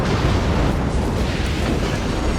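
Heavy shellfire pounds the Scharnhorst battleship in a naval video game, a dense, continuous rumble of explosions and booms with no clear gaps, loud and close throughout.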